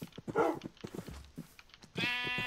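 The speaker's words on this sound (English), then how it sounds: "Oh, the sheep there." A sheep in the video game Minecraft gives one clear bleat at the end, following a few seconds of game sounds and scattered clicks, close and loud against the background.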